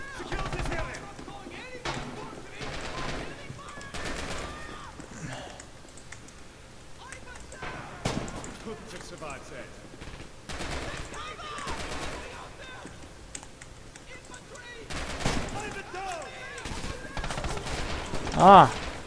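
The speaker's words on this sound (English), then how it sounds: "Ah, they're shooting at us." Scattered rifle and machine-gun fire aimed at the player's squad in Red Orchestra 2: Heroes of Stalingrad, a battle at a grain factory, with sharp cracks popping throughout and a denser volley near the end, partly under someone talking.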